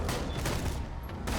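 Jakobs shotgun from the video game Borderlands The Pre-Sequel firing in rapid succession, with a quick string of sharp blasts packed closely together over a short burst, loud and close, with game noise underneath.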